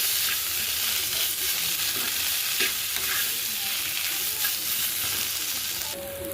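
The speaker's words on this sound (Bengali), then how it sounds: "আলু সেদ্ধটা দিয়ে দিলাম, দিয়ে সুন্দর করে কষিয়ে নেব।" Boiled potato frying in a pan for bread pakora filling, with a steady close sizzle and stirring scrapes throughout and no talking.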